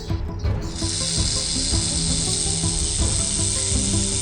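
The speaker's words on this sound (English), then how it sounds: "snake" A snake gives a steady, loud hiss that starts after a short moment and carries on unbroken, with a low rumbling background beneath it and no talk.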